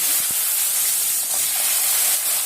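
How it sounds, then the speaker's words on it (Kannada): Chopped onions hit hot oil with curry leaves for onion sambar, a loud steady sizzling hiss filling the whole stretch, close and unbroken, with no voices. "ಈಗ ಈರುಳ್ಳಿ ಹಾಕ್ತಾ ಇದ್ದೀನಿ"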